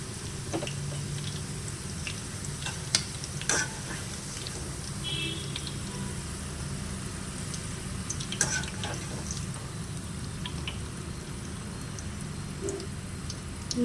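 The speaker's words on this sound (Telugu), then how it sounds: "నూనె ఇట్లా ఎక్కువ పోసుకొని దొండకాయ ముక్కలు వేసి ఇలా వేయాలి" Ivy gourd pieces fry in a generous pool of oil, giving a steady, fairly quiet crackle throughout with a few sharper pops and clicks scattered across it.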